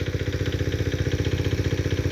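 A low-lift water pump engine runs at a fish farm, a steady close, throbbing mid-pitched chug with a fast regular pulse that holds even throughout, with no voices over it.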